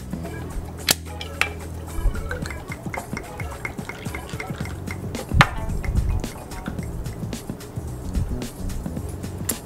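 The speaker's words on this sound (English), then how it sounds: "Give it a quick stir." A spoon stirs a ginger ale cocktail made with lemon juice in a glass, giving a series of light, irregular clinks and taps against the glass over a soft fizzy background.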